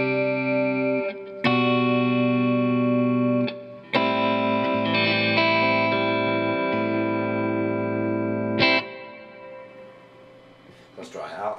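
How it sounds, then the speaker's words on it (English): Dry electric guitar playing a clean tone with only the amplifier's built-in reverb, no effects pedals, sustained chords ringing out loudly with brief gaps and a fading tail at the end. "show you what it sounds like completely dry"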